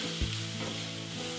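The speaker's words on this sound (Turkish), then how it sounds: "ilk olarak soğan sarımsak kavuruyoruz bu domates sosumuz için" Onion and garlic sizzle steadily in a hot pan, sautéed as the base for a tomato sauce, with a soft stirring scrape near the start. The sound is continuous and close, with no talk.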